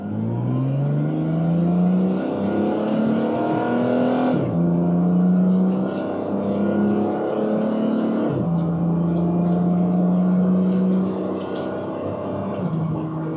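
A silver 2016 Porsche 911 GT3 RS accelerates hard through paddle-shifted gears, its engine revving up in three rising pulls with sharp breaks at each upshift, loud and close from inside the car.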